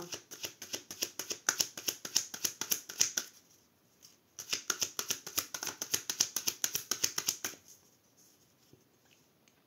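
Tarot cards are shuffled and cut by hand in quick riffling bursts of rapid crisp flicks, a pause in the middle, then another run of shuffling before a final quiet cut.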